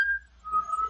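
A short, clear whistled tone holds steady, dips briefly, then returns on a slightly lower note, in an old-time radio drama.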